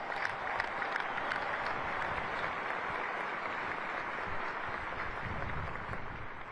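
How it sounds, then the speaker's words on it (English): Sustained applause from a large audience at the West Point commencement ceremony, steady and dense for the whole stretch with no voices breaking through. "Let's give them a round of applause."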